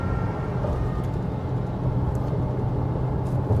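2021 Toyota Hilux double cab Invincible pickup cruising at highway speed, a steady low rumble of road and engine noise inside the cabin, continuous and even.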